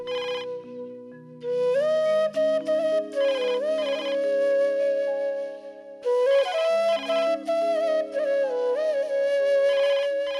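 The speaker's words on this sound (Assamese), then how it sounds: "ফোনটো আপুনি ৰিচিভ কৰিব নালাগে মই কৰিম" A phone ringtone plays a looping electronic melody of bright tones, loud and close, carrying on steadily with no talking over it.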